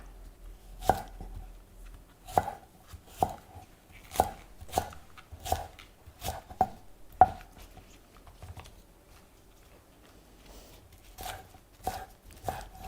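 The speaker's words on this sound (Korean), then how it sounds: "파는 어슷 썰어주세요" Knife slicing green onions diagonally on a cutting board for a spicy yellow croaker stew, a dozen or so crisp, evenly spaced chops close by, with a short pause partway through.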